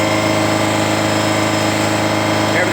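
A pump runs steadily on a large Mitsui-Seiki machine tool, giving a continuous, even mechanical hum with a faint rhythmic pulsing that holds at the same level throughout.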